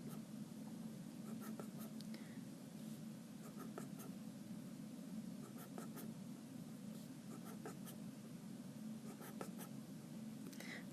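A pen writes numbers on paper during a math lesson, with faint, close scratching strokes in short repeated bursts over a low steady room hum.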